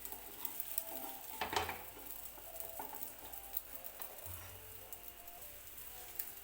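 An egg omelette sizzles softly in a pan as it is gently flipped, with a low steady frying hiss, a brief louder clatter of the turn and light scraping, no voices.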